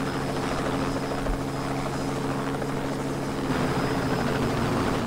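Steady helicopter rotor thrum and engine drone in the video game Just Cause 2, loud and continuous throughout, with a constant high whine above the low chopping beat.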